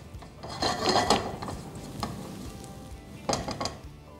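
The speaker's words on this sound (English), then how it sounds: "Now, these will go in our pan. We shall sauté this also very quickly." Finely chopped vegetables sauté quickly in a pan with a soft sizzle and intermittent stirring scrapes, quiet and close with no talking.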